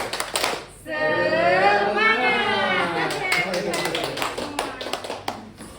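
A group at a teachers' sharing forum does a rhythmic spirit clap: a loud, sustained chorus of voices chanting together, with sharp clap bursts at the start and a run of quick claps toward the end.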